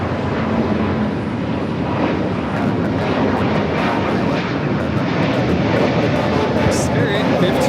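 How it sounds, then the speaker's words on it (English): A Spirit Airlines jet takes off from LAX bound for Las Vegas, its engines giving a loud, sustained roar with rumble and some wind buffeting, while a voice talks over it. "Spirit 1550 taking off to Las Vegas"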